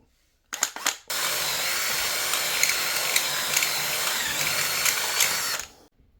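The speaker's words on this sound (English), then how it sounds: "so let's drill it out a bit." A power drill bores out a metal tube being fitted to a blank-gun revolver: a short start-and-stop burst, then a steady, loud, close whine that runs for several seconds before cutting off.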